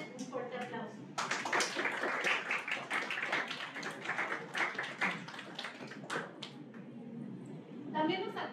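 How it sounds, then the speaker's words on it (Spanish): Applause from an audience at an academic event on Latin American philosophy and the history of ideas, dense clapping that runs for several seconds with voices mixed in underneath. "Démosle un fuerte aplauso."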